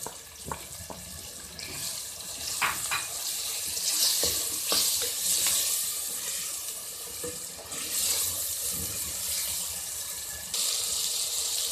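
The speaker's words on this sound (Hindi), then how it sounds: "हल्दी और सुरख मिर्च के बाद हमने इसके अंदर पानी ऐड किया है ताकि मसाला अच्छी से भून जाए।" Spice masala of turmeric, red chilli, dried coriander and white cumin fries in a pan with added water. A constant, hissing, bubbling sizzle comes up close, with a few light stirring clinks.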